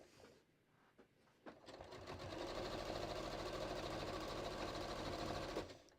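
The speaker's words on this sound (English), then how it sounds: "I'm literally triple zigzagging right over the serged edge." Sewing machine running a triple zigzag stitch over a serged fabric edge while elastic is wrapped in, starting with a few short bursts then settling into a steady, loud continuous whir for several seconds before stopping.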